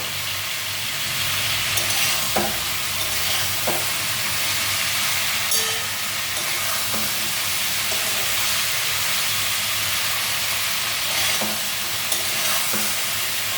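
Mixed vegetables for a curry fry loudly in a pan with a constant, dense sizzle. Scattered knocks and scrapes from stirring run through it, with no voices.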